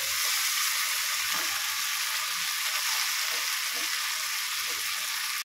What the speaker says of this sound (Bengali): মশলাটা অনেকক্ষণ ধরে কষিয়ে নিয়েছি